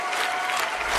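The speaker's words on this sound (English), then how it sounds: "you guys are just cheering over me" A live audience claps and cheers in a dense, steady wash of applause that fills the whole moment without a break.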